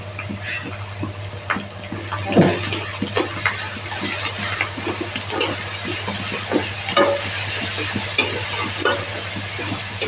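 Spice paste mixed with a little water is stirred into vegetables frying in a pan for bharali ghonto, with a steady sizzle under irregular scraping strokes of the spoon, close and fairly loud, no voices.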